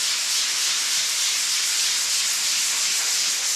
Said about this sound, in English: you can come in and fine tune it with the sanding sponge